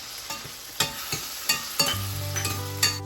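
Onions sauté in a pan for palak paneer with a constant close sizzle, broken by repeated sharp scrapes and taps of a spoon stirring them, and a low hum joins near the end.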